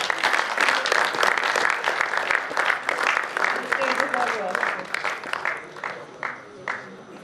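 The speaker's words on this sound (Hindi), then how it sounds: "तालियां बजती रहनी चाहिए।" Audience applause fills a hall at a corporate stage event, dense and sustained clapping from a large crowd that stays loud for several seconds before gradually thinning toward the end.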